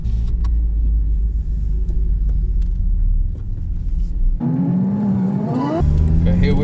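Steady low rumble of a Honda Civic Type R FN2 engine heading onto a race track for a warm-up lap, with a rising whine of revs near the end.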